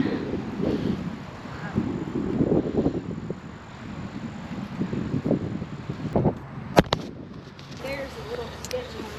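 Gusty wind buffets the microphone outdoors in uneven roaring bursts, with a few sharp pops and knocks near the end.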